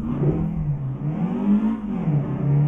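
A Volkswagen Passat B8 mod in Euro Truck Simulator 2 drones with a steady engine tone rising and falling as it revs, loud and continuous with no talk over it.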